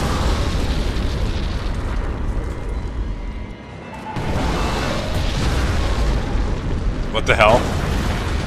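In the Red Alert 3 strategy game, buildings blow up in a series of heavy booms and crumbling rumbles, loud and layered, while a player exclaims over the din.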